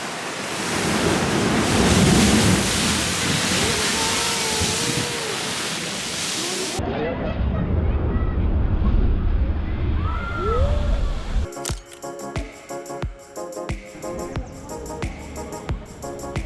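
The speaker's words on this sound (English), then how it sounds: "every time there's a big wave, it pushes a bunch of water into this underground cavern, and then all that water and air comes out through the top, creating the geyser" La Bufadora marine geyser near Ensenada, Baja, where big waves force water and air up out of an underground cavern; loud surf and rushing, sloshing water roar steadily under wind noise before cutting to quieter sounds.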